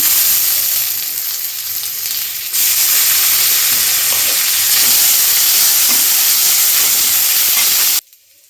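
Garlic and ginger paste frying in a pan for a fish head curry with pumpkin, potato and cabbage. A loud, close, continuous sizzling hiss grows slightly stronger partway through, then cuts off abruptly near the end.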